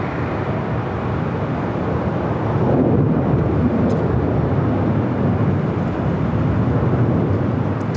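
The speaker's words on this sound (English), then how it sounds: "This flight heading to Atlanta, it's a Delta A321." A Delta A321 airliner bound for Atlanta takes off at LAX, its engines a steady broad roar that swells slightly midway and holds loud and continuous with no talk.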